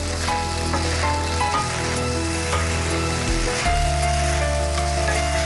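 Prawn rice seasoned with black pepper sizzles and crackles in a hot pan as it is stirred, a steady close frying hiss with occasional scraping and a brief tonal hum partway through.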